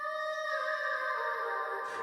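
Reverb-drenched vocal sample treated with a stock FL Studio reverb, the dry signal pulled down and both low and high ends trimmed, leaving a sustained, washy harmonic tone that lingers steadily before fading into a soft tail.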